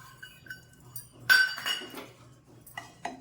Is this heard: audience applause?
no